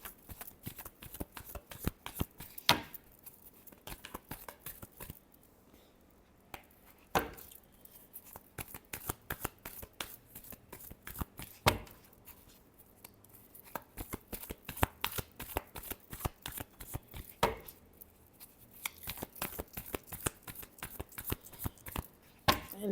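A deck of tarot cards is shuffled by hand, with quiet, close riffling and flicking in repeated rapid bursts separated by brief pauses, no talking.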